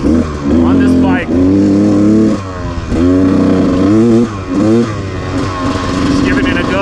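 A 2018 Gas Gas XC300 dirt bike engine revving loud and close, rising and falling in repeated bursts of throttle with brief dips between, raw two-stroke pitch climbing each time.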